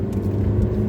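A car pulling out of a roundabout near Pacy-sur-Eure, its engine droning steadily from inside the cabin, a low continuous hum with no other sounds.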